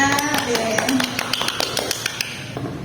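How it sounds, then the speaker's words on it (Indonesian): Scattered clapping from students in a classroom during a practice micro-teaching lesson, a short burst of uneven claps over someone speaking. "Terima kasih ya tepuk tangannya"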